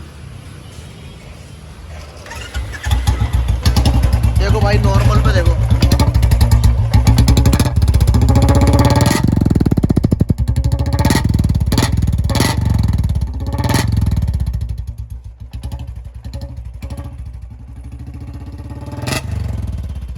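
A Royal Enfield Classic 350 motorcycle with a modified silencer idles, then revs loudly with a deep, throaty rumble and crackling pops, repeatedly throttling up and down; someone speaks briefly over it.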